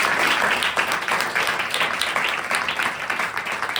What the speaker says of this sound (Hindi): प्रज्ञा के लिए जोरदार ताली होनी चाहिए।